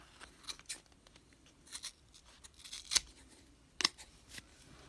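Scissors snip repeatedly at a fluffy yarn pom pom, a quiet, close series of short crisp cuts spaced irregularly, with a couple of sharper snips standing out.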